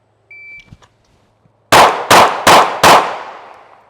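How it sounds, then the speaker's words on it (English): Baby Glock pistol fired in a fast string of four sharp, loud shots about half a second apart at an outdoor range drill, each report ringing briefly, preceded by faint clicks and a short beep. "you're gonna draw and fire 4 rounds in 4 seconds"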